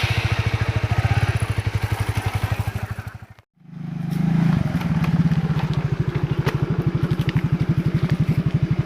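A motorcycle engine chugs in a fast, rhythmic idle pulse, cuts out briefly, then is restarted and settles back into steady close-up putting.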